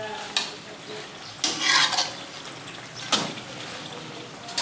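Vegetables fry in a pan while a utensil stirs and scrapes through them in a few distinct bursts over a continuous close sizzle.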